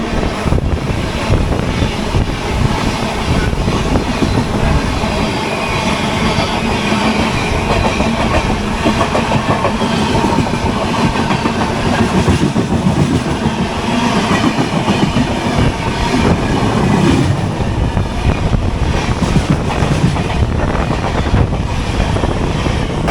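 Howrah to Digha local train running at speed, a loud, constant rumble and rattle of carriages with rhythmic clatter on the rails, heard from inside throughout.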